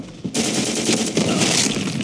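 Rapid automatic gunfire from the online shooter Black Squad rattles in a dense, loud burst that starts after a short pause and continues steadily to the end.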